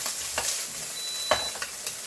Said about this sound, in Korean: 양파를 같이 이제 볶아주시면 됩니다.